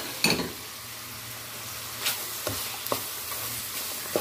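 Chopped onions are added to chicken frying in butter in a pan. The first burst of sizzle is loud, followed by a steady, quieter fry with a few spatula stirs and scrapes.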